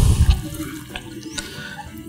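Fish curry coming to a boil in a covered pot, a burst of close bubbling and watery gurgling at the start that settles into softer simmering.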